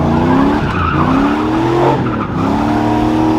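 An LS-swapped G-body car accelerates hard in first gear with a loud, rising engine roar and squealing tires, heard up close without a break.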